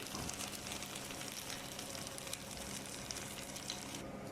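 Chicken pieces fry in a pan, a steady, quiet, even sizzle throughout with no talk.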